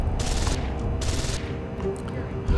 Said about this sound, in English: She's shooting the bot.